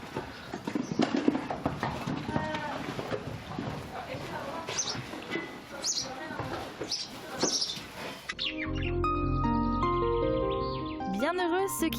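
A horse's hooves shuffle and clop in a stable box amid busy bird chirping and voices, before steady music takes over near the end.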